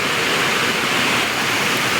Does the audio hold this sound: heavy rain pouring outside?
yes